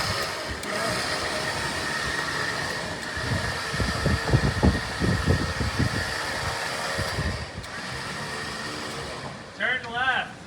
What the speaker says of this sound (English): So we're getting it on the trailer now